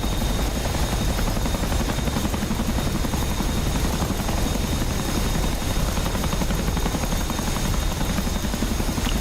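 A Chinook helicopter in a video game, its dense rotor thrum and engine whine holding steady and loud throughout, alone with no voices.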